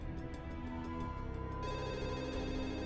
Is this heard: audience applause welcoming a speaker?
no